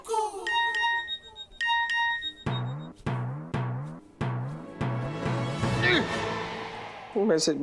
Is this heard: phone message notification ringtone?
yes